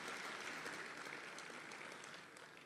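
Audience applause for poet Tahir Faraz at a Republic Day kavi sammelan and mushaira in Dubai, a brief, faint spread of clapping heard from a distance.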